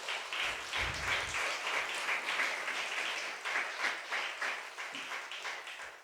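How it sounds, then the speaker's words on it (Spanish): A church congregation applauding, a dense, sustained wash of many hands clapping together that holds steady at a moderate level throughout. "Denle un aplauso al Rey de Reyes."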